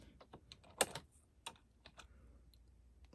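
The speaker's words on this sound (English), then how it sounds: "you just go right over there, type in the new name" Keys tapped on a computer keyboard in a quiet room while a new name is entered into embroidery software, an irregular run of soft close clicks with a few sharper strokes and short pauses between them.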